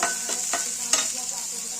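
Onions frying in hot oil crackle steadily in a pan while a spatula stirs them in a few quick scraping strokes, close and clear.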